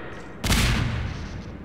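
A grenade blast in the Half-Life 2 Update mod for Half-Life 2, one sudden loud boom with a broad rumbling tail that fades over about a second, no voices.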